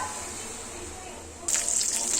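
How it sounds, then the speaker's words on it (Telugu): Water poured into a pan holding leftover semolina, a sudden splashing gush that starts partway through after a quieter stretch of background hiss. "కడిగితే మళ్ళీ ఇదంతా వేస్ట్ అవుతుంది కాబట్టి నేను దీంట్లో వాటర్ పోసుకుంటాను."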